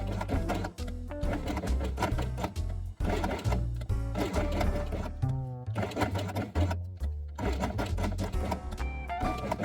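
Pieces of felt stitched along the edge with black thread on a sewing machine for a craft project, a close mechanical whirring run in several bursts with brief pauses between them.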